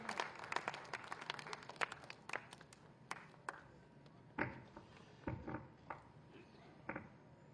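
Scattered, sparse clapping from a small conference audience at a World Environment Day 2023 event, irregular claps bursting and fading rather than sustained applause.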